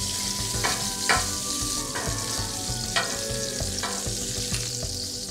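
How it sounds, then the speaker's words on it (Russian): Tuna searing in a hot pan with onions nearby, a steady close sizzle with a few soft clanks and scrapes of stirring spaced through it, no voices. "То есть тунец именно что обжаренный."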